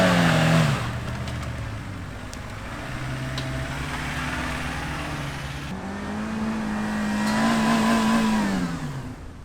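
Suzuki Jimny on all-terrain tires revving hard up a muddy, slippery off-road hill with a step, engine note rising and holding steady through the climb, close and loud.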